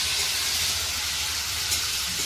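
Hot oil frying in a village kitchen pan, a dense, continuous hiss that stays loud and even from start to finish, with no voices.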